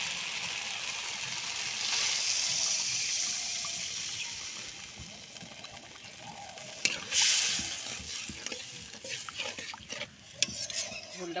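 Water is poured into frying spice masala for a red lentil and egg curry, setting off a sharp hiss and sizzle, with stirring and scraping in the pan before and after.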